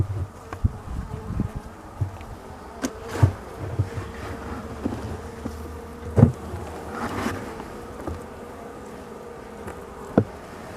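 Honey bees buzz steadily around hive frames during a spring inspection, a dense continuous hum with occasional louder passes of bees flying close, plus faint handling knocks.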